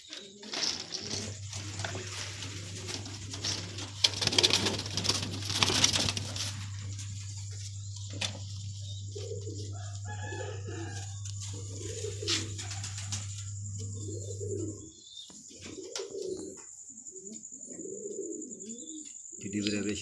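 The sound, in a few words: pigeons cooing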